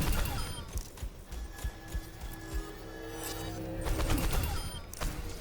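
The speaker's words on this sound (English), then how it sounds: "ZENYATTA can also charge up 5 orbs and shoot them out." Zenyatta in Overwatch charges up and releases a volley of five orbs: a rising charge tone gives way to a quick cluster of bursts, amid ongoing gunfire and game noise, with no talk.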